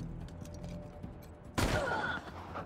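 A sudden loud burst of gunfire in the video game Wasteland 3 breaks in after a stretch of quiet ambience, then trails off with a ringing tail.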